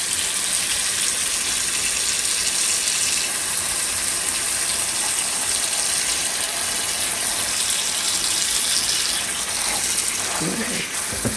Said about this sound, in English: So you want to put enough water in to cover the peanuts.